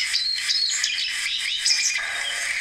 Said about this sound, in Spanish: Jilguero aliblanco.